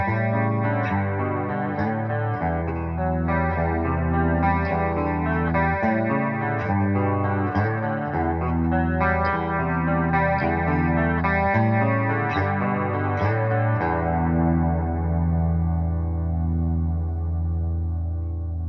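Solar S2.6C electric guitar played through a delay, Holy Grail reverb and Neoclean chorus with a noise suppressor, giving a loud, shimmering, echoing stream of notes and chords that rings out and decays toward the end, with no talking.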